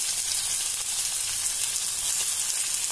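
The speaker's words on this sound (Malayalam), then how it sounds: "എണ്ണ നന്നായി ചൂടായി വന്നിട്ടുണ്ട്. ഇനി നമുക്ക് കടുകിട്ട് പൊട്ടിക്കാം." Mustard seeds and onion sizzle in hot oil for a soya chunks roast, a dense, even, loud frying hiss close by with no talking.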